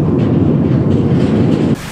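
Mine train wagons rolling along rails in a gold mine tunnel, a steady continuous low rumble that stops abruptly near the end.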